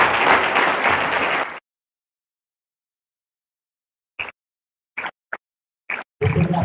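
A dense burst of audience clapping for a People's Choice Award winner at an agricultural event, loud for about a second and a half, then cut to silence with a few brief fragments near the end.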